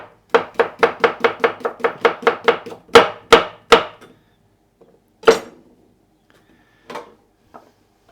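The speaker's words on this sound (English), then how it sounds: "And then some cucumber, again for my salad. So I'll just cut those into slices." Knife slicing through a cucumber on a board, a quick run of about a dozen crisp, evenly spaced chops, then a few slower single cuts and sparse taps, close and clear.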